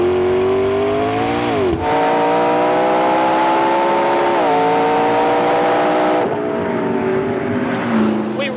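A McLaren P1 supercar accelerates hard on the Dunsfold track, its engine note climbing loud and close through several gear changes, each shift marked by a brief dip before the pitch rises again.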